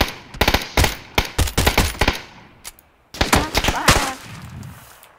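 PUBG gunfire: rapid bursts of loud, close sprayed shots in uneven clusters, a brief lull, then another burst with ringing game effects, while players talk under the shots.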